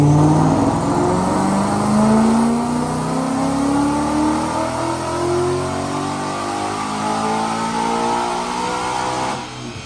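Supercharged 2016 Ford Mustang GT with a Whipple Stage 2 supercharger, headers, carbon fiber driveshaft and twin disc clutch, run on a dyno: a loud, sustained engine pull climbing steadily in pitch with supercharger whine, then easing off at the end.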